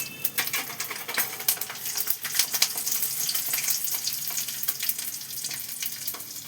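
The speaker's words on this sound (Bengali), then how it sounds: "এই যে গোটা রসুনের কোয়াগুলো দিয়ে দিলাম।" Whole garlic cloves with dried chilli frying in hot oil, a steady crackling sizzle with sharp pops throughout, fairly close and moderately loud.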